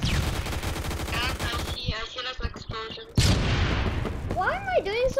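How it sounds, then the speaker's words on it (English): Gunfire and grenade blasts in the Phantom Forces shooter game, a dense stream of rapid automatic shots followed by booming bursts and a sharp explosion, loud and close, with game sounds layered over the action. "There's a lot of grenades."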